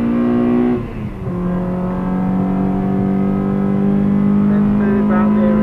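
A Honda Accord Type R engine revs loudly and close by, its pitch dropping briefly and then climbing and holding at a steady high whine.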